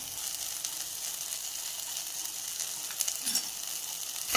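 Onions and spices for potato kurma sauté in a pan with a constant close sizzle. Brief scraping stirs come near the end, and nobody speaks.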